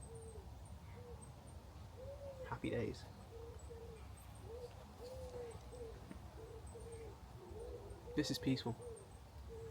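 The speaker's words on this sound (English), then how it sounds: "Not with the birds tweeting and wind in the trees." Birds call outdoors in a quiet, peaceful setting, led by a soft owl hooting that repeats in a steady rhythm. A person speaks briefly under the calls.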